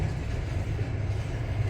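A Canadian National freight train curves off into a rail yard near the Amtrak station at Homewood, Illinois, giving a steady, continuous low rumble with no talk over it.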